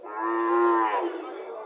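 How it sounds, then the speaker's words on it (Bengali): A Sahiwal heifer calf at a cattle market gives a single long, clear moo, close and loud, fading out at the end. "প্রতি বুধবার এখানে খুব সুন্দর সুন্দর সাইওয়াল জাতের বকনা বাছুর ওঠে"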